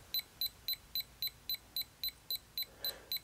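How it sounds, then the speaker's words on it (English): A Securam electronic safe lock keypad emitting a rapid regular series of about twelve short sharp beeps, evenly spaced and close, with no talking. "and you're going to hear that beep."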